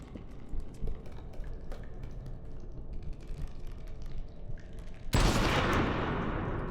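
Rifle fire in the horror video game REANIMAL: a sudden loud blast near the end cuts through a steady bed of game ambience and rustling, then leaves a long noisy decay.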